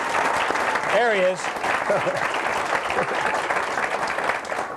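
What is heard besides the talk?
audience applause at a restaurant roast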